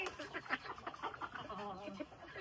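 Farm chickens cluck in a dense, overlapping chorus of short calls, close and steady across the whole stretch, with no talking.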